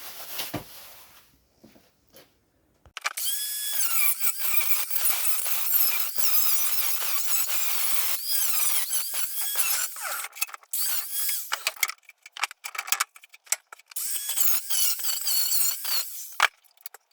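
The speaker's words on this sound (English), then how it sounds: "let's cut the old one off" A power tool cutting the old rusty wing panel off a Ford Escort MK1, a harsh high-pitched screeching grind that starts after a quiet moment and runs in long bursts with brief pauses.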